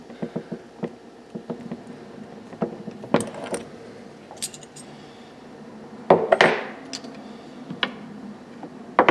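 Metallic clinks and taps from folding a Morgan silver dollar coin ring on a cone, sharp scattered strikes, close, with a louder cluster of ringing hits partway through.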